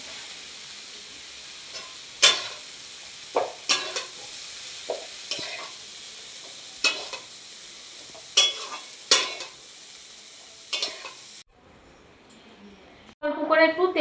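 Chopped dumur (fig) frying in a pan for a Bengali prawn curry, a soft continuous sizzle broken by sharp scraping stirs of a spatula, then a brief quiet gap before a louder burst of sizzling at the end.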